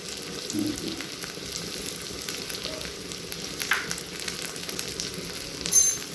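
Chicken do-pyaza frying with hand-crushed kasuri methi and a pinch of salt is stirred in the pan, a steady sizzle broken by occasional scraping knocks of the spoon.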